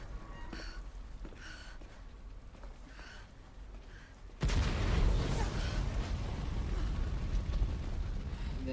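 An explosion in the video game Resident Evil 2 Remake bursts in abruptly partway through, after quieter game ambience. It becomes a loud, sustained rumbling roar that continues to the end.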